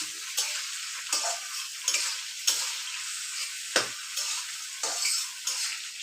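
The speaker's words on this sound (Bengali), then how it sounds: "গরম তেলে দিয়ে দিয়েছে, এবারে ভালো করে ভেজে নেবে" Food fries in hot oil while being stirred, a soft steady sizzle punctuated by about eight sharp scrapes and clinks of a spoon against the pan, spaced roughly every second.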